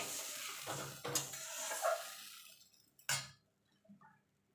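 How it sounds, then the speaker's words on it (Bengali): Spice paste for a fish curry with cauliflower and potato is stirred in a pan, giving a soft sizzle, scraping and a few clinks of a utensil against metal, fairly quiet and close. "এবার মশলাটাকে একটু কষিয়ে নেবো"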